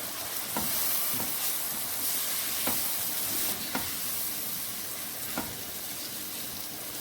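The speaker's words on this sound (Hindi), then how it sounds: "अब हम इनको साथ साथ भूनेंगे।" Red chili powder and salt are roasted together in a hot pan, giving a steady sizzling hiss broken by several sharp clinks of a spoon against the pan at irregular intervals.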